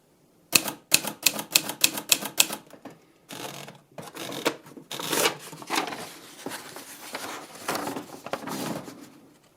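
An Olympia SM3 typewriter with a hard platen types in a burst of loud, sharp strikes, then more irregular clattering keystrokes and carriage noise, close up with no talking.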